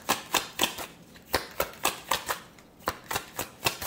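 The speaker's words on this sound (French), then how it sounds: "Alors, on va prendre encore ici 3 cartes." Tarot cards are drawn from a deck in a quick, irregular run of about a dozen crisp papery snaps and flicks, close and clear with no talking.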